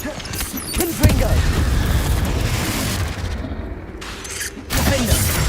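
A Confringo fire spell exploding in Hogwarts Legacy inside a cave, a loud booming blast with crackling rumble that swells, dips briefly and bursts again, with game voices mixed in.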